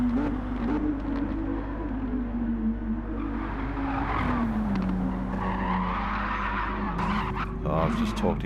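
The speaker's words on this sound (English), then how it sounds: "Got all loose in the dipper, met the walls, got some damage there now." A Renault RS 01 race car at Bathurst in Gran Turismo 7 skids loose and into the wall: engine drone with a sliding tire squeal and scrubbing noise, loud and close, while a commentator talks over it.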